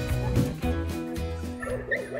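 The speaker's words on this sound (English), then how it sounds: "How cute are these beautiful little Australian cattle dogs?" Australian cattle dog puppies yip, whimper and bark in quick, high-pitched bursts, several overlapping close by and fairly loud throughout, as young dogs play and chase.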